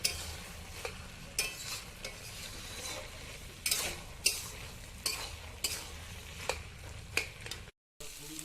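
Cabbage curry stirred in a wok, a spatula scraping and clacking against the metal every half second or so over a steady frying sizzle, close and fairly loud.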